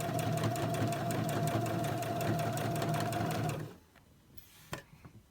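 A sewing machine stitches a quarter-inch seam with a fast, even mechanical chatter for nearly four seconds, then stops abruptly, followed by a few faint clicks and handling sounds.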